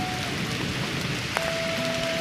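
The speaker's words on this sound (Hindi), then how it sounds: "बारिश ये देखो कितनी ज़्यादा हुई है" Steady heavy rain with rushing rainwater running past a village house, a dense continuous wash that stays loud and even throughout with no talking.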